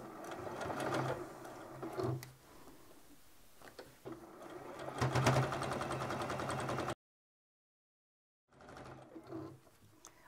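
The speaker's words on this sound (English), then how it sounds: "Take your pins out and sew this all down." Sewing machine running in steady bursts while stitching down an elastic waist skirt, close and fairly loud, pausing briefly between runs with a full stop of about a second and a half before resuming.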